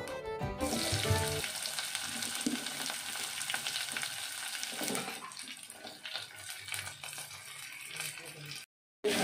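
Onion and curry leaves hit hot oil with mustard seeds in a pan for bitter gourd gojju, giving a loud, close sizzle with stirring rattles that gradually settles.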